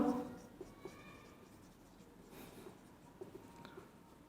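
Pen on paper writing a note in a quiet room, faint and close, soft scratchy strokes in short bursts with small taps as the tip lifts and lands, no talking.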